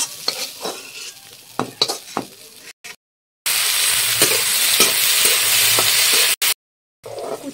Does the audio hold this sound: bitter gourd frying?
yes